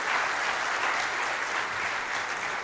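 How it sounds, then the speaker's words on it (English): Even, continuous applause from a seated audience at a policy dialogue on economic engagement, thanking diplomats after a panel discussion, steady and moderately distant throughout. "a round of applause for"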